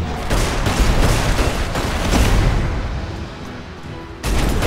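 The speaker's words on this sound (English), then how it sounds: "Oh, I forgot I had grenades." Grenade blasts in the wizard combat game Magicka roar in a dense, loud rumbling barrage of overlapping booms that thins briefly before another heavy burst hits at the end.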